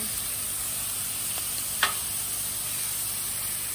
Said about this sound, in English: Oh yeah, it's sizzling good now.